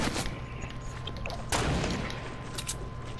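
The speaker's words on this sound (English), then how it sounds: "Getting shot at." Gunfire in a video game, a dense rattle of shots with a heavier burst partway through, loud and continuous with no talk over it.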